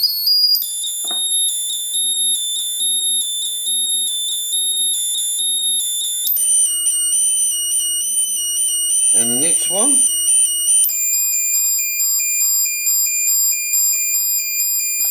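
Steady high-pitched pulsed tones from a frequency generator sound continuously and shift pitch a couple of times, with a person briefly speaking underneath.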